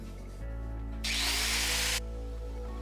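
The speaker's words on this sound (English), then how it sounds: "So it's back to the grinder." A power grinder cuts into a fossil-making canister in a basement workshop, a steady motor hum joined by a loud, harsh, close hiss of cutting for about a second before it drops back to the hum.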